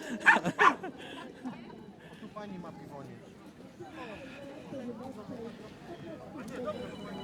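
A small dog on a street gives two sharp, close yaps, then softer whimpers and yips follow while people chat nearby.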